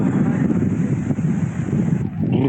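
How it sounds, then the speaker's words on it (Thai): Fierce wind sweeping over a mountain campsite on Doi Samoe Dao, a loud, steady rumbling rush buffeting the microphone throughout, without talk. "โอ้โหลมแรงมาก"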